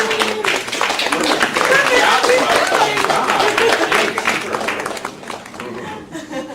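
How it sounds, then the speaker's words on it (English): An audience at a Nashville poetry reading applauds with dense, steady clapping and some chatter, then the applause thins and fades toward the end. "Applause."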